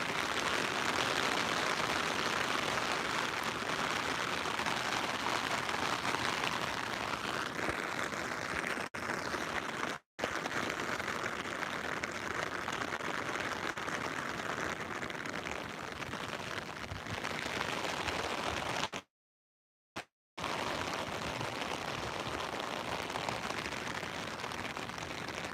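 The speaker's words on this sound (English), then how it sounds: "Now we're having a nice downpour coming through." A heavy rain downpour in a city street during a sudden storm, a dense, steady wash of rainfall roaring close and unbroken except for two brief dropouts.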